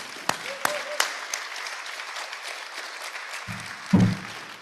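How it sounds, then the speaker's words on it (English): A few sharp claps ring out, then a scattered, fairly quiet round of applause from a small Rotary Club audience, with a brief voice near the end. "Let's give them a round of applause."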